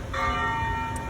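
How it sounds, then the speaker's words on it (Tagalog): A church bell rings with sustained tolling tones over steady outdoor background noise as rain sets in, continuous and fairly loud for the whole moment. "naabutan din natin biglang nagpatingting yung ating kampana ng simbahan"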